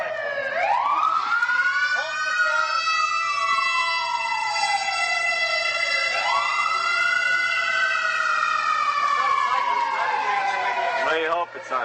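An emergency vehicle siren wails and sweeps up and down as it passes during an outdoor street gathering, loud and rising and falling in long cycles, with a faint low engine rumble beneath.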